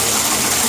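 A ferret tumbles into bathtub water, giving a brief, loud splash and gush of water lasting under a second.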